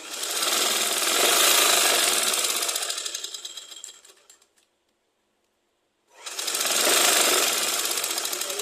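A sewing machine stitches a skirt hem in two fast, whirring runs of rapid needle strokes separated by a pause of near silence, loud and close, with no talking.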